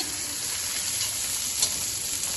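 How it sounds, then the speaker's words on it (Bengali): Tomato and ginger hitting hot frying oil in a pan for a Bengali katla fish curry, giving a steady, bright, close sizzle with light stirring throughout. "এবার টমেটো দিয়ে দিচ্ছি আদা ভেদ করে দেওয়া আদা দিচ্ছি"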